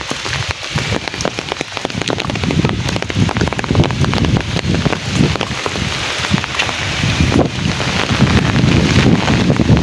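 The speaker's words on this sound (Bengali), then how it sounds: "যে বাতাসের ঝড়" A strong windstorm with heavy rain in Rajbari district roars steadily, gusts buffeting the microphone amid dense, continuous rain patter.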